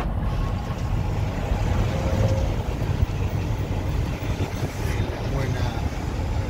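A big truck engine rumbles low and steady from inside the cab with a constant droning road noise; voices speak over it.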